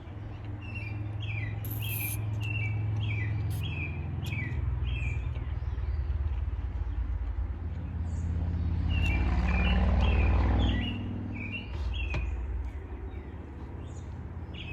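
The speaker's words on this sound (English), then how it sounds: "where is that bird? It's very close." A bird chirping very close by, repeated short bright calls in quick bursts over low background rumble and traffic-like hum, with a second burst of calls partway through.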